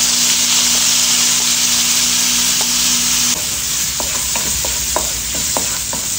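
Garlic and onion sauté in oil reused from frying fish, a loud, dense, continuous sizzle heard up close, with scattered clicks and scrapes of a utensil stirring the pan and no voices over it.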